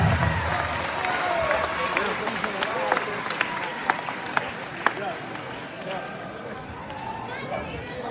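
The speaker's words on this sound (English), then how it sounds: "Let's give a round of applause to this man" An audience applauds for a man at a live show, a steady wash of clapping with a few sharper claps standing out, the crowd noise filling the whole stretch.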